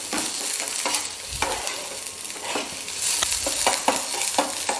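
Chopped onions sauté with garlic in a hot pan for a veg momo filling. A steady, close sizzle runs throughout, broken by repeated scraping stir strokes.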